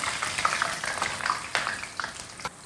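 Ginger and garlic hit hot rapeseed oil in a wok, giving a close, crackling sizzle with irregular pops and spatters that rise and fall over a few seconds.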